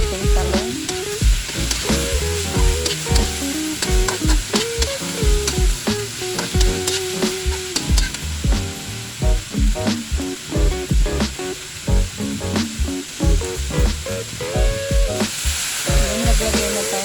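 Squash and eggplant being stirred and fried in a pan for ginataang gulay, a steady sizzle with repeated scraping and clatter of the utensil, close and continuous throughout.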